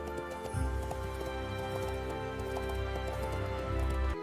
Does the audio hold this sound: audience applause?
no